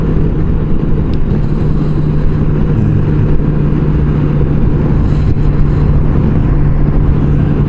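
A motor vehicle cruising at night, its engine rumble and road drone steady and loud from start to finish, with a constant low hum and no one talking.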